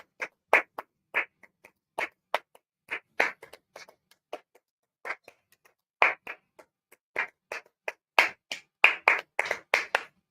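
One person claps hands in short, sharp single claps and quick bursts, repeated many times in a loose, uneven rhythm. The claps are close and crisp against silence.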